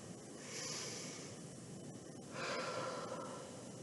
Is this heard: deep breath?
yes